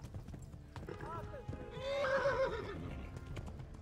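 Horse hooves clip-clop steadily in the medieval video game Kingdom Come: Deliverance, a close, even rhythm of hoofbeats that runs under people talking.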